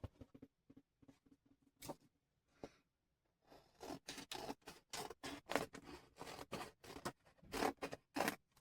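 A crinkly sheet being cut to size with scissors: a quick run of soft snips, then louder, rapid crinkling cuts and rustling close up, in quick rhythmic bursts.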